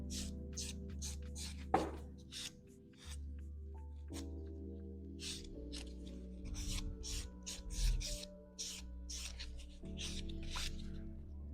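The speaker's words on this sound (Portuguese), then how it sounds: "agora dar o nosso acabamento com a lixa Buff" A buffer nail file rubbing back and forth across fingernails during a manicure, soft raspy strokes repeating in a steady rhythm at close range over a faint background hum, no talking.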